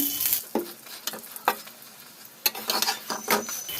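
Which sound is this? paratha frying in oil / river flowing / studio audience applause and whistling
paratha frying in oil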